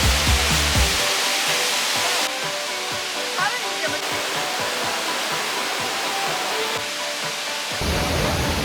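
A waterfall at a scenic area near a Chinese beach town roars as a steady, dense wash of broadband noise, loud and continuous, with wind buffeting in places.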